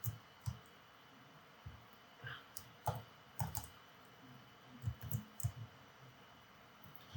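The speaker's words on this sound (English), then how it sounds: "I can type the command hostname to check that." Keys clack on a computer keyboard as a command is typed at a Linux server terminal: short irregular bursts of clicks and taps, close and fairly quiet, with pauses between keystrokes.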